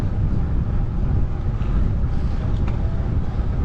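Strong wind buffets a cyclist on a gravel ride, a loud, low, continuous rumble roaring across the microphone with no clear break.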